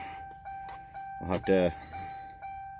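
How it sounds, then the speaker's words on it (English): An OBD2 scanner plugged into a 2011 Ford Crown Victoria Police Interceptor gives off steady electronic beeping tones, and someone speaks briefly over them. "Stop beeping."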